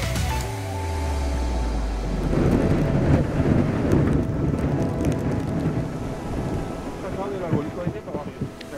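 Heavy rain pours steadily at a hunting stand in a downpour, with a deep rumble of thunder rolling at the start before the dense patter of rain takes over and continues loud and unbroken.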